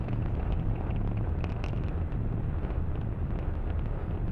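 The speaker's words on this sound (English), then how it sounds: "we are throttling down those engines in preparation for max Q, that is maximum dynamic pressure" Falcon 9 rocket engines throttled down during ascent before max Q, on a Starlink satellite launch: a steady, dense low roar and rumble with wind-like buffeting, continuous and fairly loud throughout, no voices.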